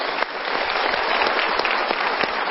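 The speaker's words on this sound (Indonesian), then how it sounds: "Kita berikan tepuk tangan." Studio audience applause at a televised motivational talk show, a dense, steady burst of clapping from many hands close by, sustained evenly for the whole moment.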